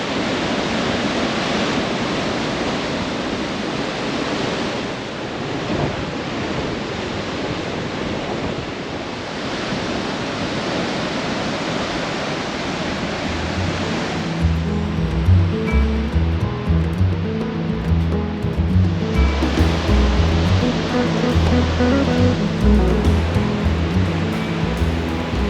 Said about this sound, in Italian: Intanto vi faccio vedere l'affaccio sul mare, sull'oceano